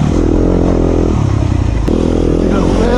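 A Suzuki motorcycle idles loud and close through its exhaust pipe in a throbbing, rumbling drone, with a brief rev partway through and a voice talking over it.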